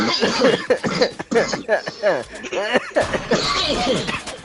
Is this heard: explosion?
no